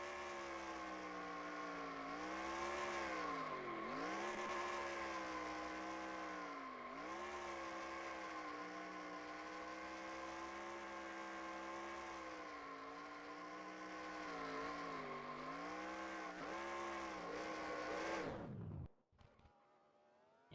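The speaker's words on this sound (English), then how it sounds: "And that would be her burnouts" Race car burnouts in the NASCAR Racing 2003 sim at North Wilkesboro: a sustained, loud buzzing engine whine with wavering pitch as revs rise and dip, cutting off abruptly near the end, with no talk.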